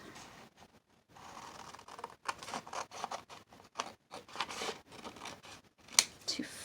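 Paper card being trimmed for a junk journal, with a series of soft crisp cuts and rustles spread across the clip, plus a sharper snip near the end.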